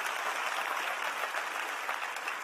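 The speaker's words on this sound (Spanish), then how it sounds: "denle un aplauso al rey" A church congregation applauds during a sermon, with steady, fairly distant clapping from many hands spread evenly through the stretch and no talk over it.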